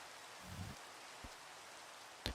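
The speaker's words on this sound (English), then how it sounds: "I'll play the rain sound effect in the background." A steady rain sound effect hisses quietly in the background, with a faint low rumble and a couple of brief soft thumps, ending in a sharper patter burst, with no talking.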